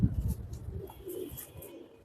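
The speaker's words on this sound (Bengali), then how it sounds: "আরেকটা মাদি কবুতর এটা আবার একটু জাবরা কালারের" A female pigeon of bagha zabra colouring cooing softly with low, muffled murmurs, plus some handling noise at the start.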